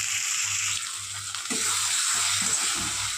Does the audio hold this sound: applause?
no